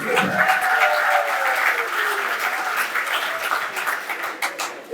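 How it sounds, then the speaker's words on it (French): Wedding guests applaud the queen, a dense continuous wash of clapping from a crowd, steady and moderately loud throughout, with some voices in the mix and a sharp burst at the very end. "Applaudissez la reine splendide."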